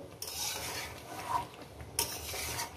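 Chicken and potato stir-fried in a pan for chicken kosha make a soft, continuous sizzle, with spatula scraping and a couple of light utensil knocks against the pan.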